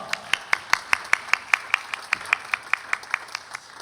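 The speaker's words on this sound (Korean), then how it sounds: "하나님께 영광의 박수 올리겠습니다." Rhythmic unison clapping from a church congregation giving glory to God during a Sunday youth worship service, about twenty evenly spaced claps in a steady beat that trail off toward the end.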